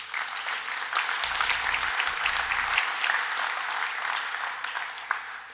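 An audience at the Flint State of the City Address breaks into sustained applause, a thick, even roar of many hands with a brief low rumble partway through, tapering slightly near the end.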